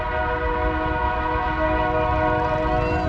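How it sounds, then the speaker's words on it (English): A slow train passing by a farm sounds a sustained, tonal horn blast over the rumbling of the rail cars, loud and continuous. "The choo-choo train."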